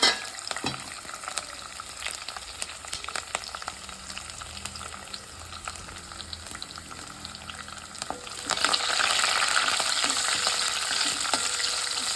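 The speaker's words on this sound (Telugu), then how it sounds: "గిన్నె పెట్టుకుని ఆయిల్ వేసుకున్నామండి ఇవ్వండి ఆవాలు వెల్లుల్లి ఎండుమిర్చి పోపు వేస్తున్నాను" Mustard seeds, garlic and dried chillies frying in hot oil as a tempering, a steady close sizzle with scattered crackles and pops that swells into a louder, denser hiss near the end; no voices.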